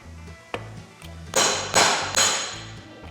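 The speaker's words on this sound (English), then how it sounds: "So what I do is I just split the wood." Wood being split for dowel making with a hand tool: a few light taps, then three loud, ringing blows in quick succession, each sharp crack fading briefly.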